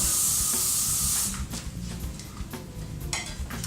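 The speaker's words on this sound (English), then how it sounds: "while it's still hot, I just spray the top" A loud, steady aerosol hiss of hairspray for over a second, then quieter handling noises with a couple of brief spray bursts.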